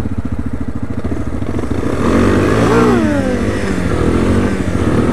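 A 1997 Yamaha Big Bear ATV engine revs loudly up close, its throaty drone climbing sharply in pitch midway through before settling back to a steady, rough idle-like rumble.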